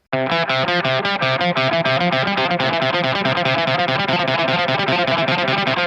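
A distorted electric guitar chugs out a fast, repeating riff of rapid picked notes, loud and continuous with no pauses or voices.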